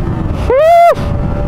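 A 155cc street naked motorcycle leans through a corner on a road in Ternate, Cavite, its engine note rising into a loud, clear rev for about half a second before dropping back under steady wind and road rumble.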